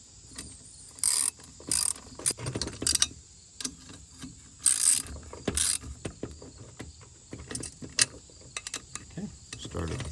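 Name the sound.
ratchet tightening engine head bolts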